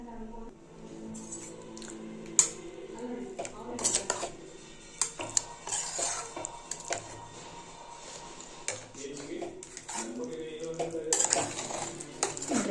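Spoon stirring dal khichdi in a metal pot, irregular clinks and scrapes against the pot with soft squishy mixing, under a person talking throughout.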